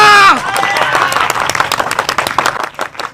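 A crowd claps for a Ganpati festival committee member just named. A brief shouted voice comes first, then a dense burst of hand claps that thins out toward the end.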